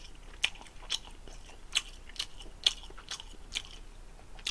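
Crisp, crunchy bites of fried gimmari (seaweed-wrapped noodle rolls) are chewed up close, with sharp crackles repeating every half second or so against a quiet background.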